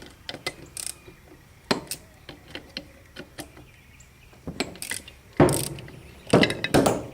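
A wrench works the bolts on the gearbox of a Massey Ferguson Model 25 tractor, with repeated metallic clicks, ratcheting and clanks, ending in a couple of louder scraping bursts as a bolt shifts.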